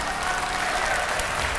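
Studio audience on an Uzbek family game show breaking into applause, a brief, continuous wash of many hands clapping at steady loudness.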